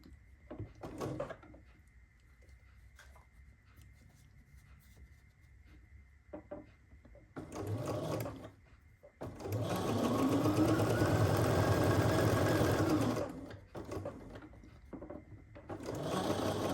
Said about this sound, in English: I just wanted to sit down and do a little sewing this evening.